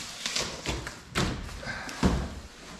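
Husky nine-drawer 52-inch mobile workbench drawers slide and knock shut in a few separate thuds and taps, close by, with quiet gaps between them.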